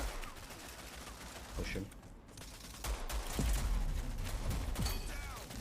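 Pistol fire in a GTA roleplay shootout: scattered sharp gunshots crack out amid background game noise, with several bursts toward the end, while a person speaks briefly over it.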